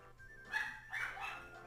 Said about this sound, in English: Sorry about the dog. It's going crazy.